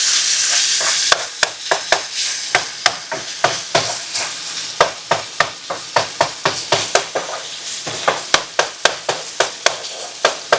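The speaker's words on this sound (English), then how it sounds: "let's go over here and fry this burger up" Ground beef frying in a pan for steakhouse sloppy joes, with a steady sizzle under repeated sharp scraping and stirring strokes of a utensil against the pan, close and fairly loud throughout.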